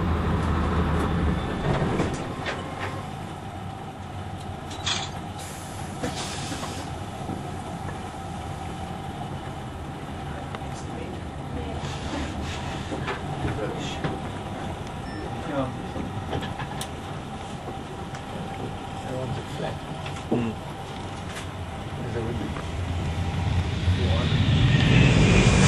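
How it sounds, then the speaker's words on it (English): An aircraft departing at Kingsford Smith International Airport, a loud continuous jet engine roar close by that swells toward the end, with someone talking over it. "We might give you a more realistic idea of what this aircraft sounds like as well"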